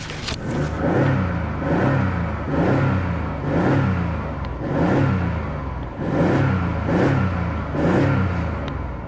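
The engine of a 2005 Jeep Liberty with four-wheel drive and about 100K miles idles steadily, with a smooth mid-pitched hum and a gentle rhythmic surge every couple of seconds, recorded close with no talking.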